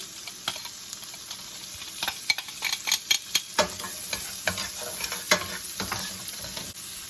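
Bacon cooks in a pan for a keto bowl, with a steady soft sizzle and a series of irregular scraping knocks from stirring, heard alone and close.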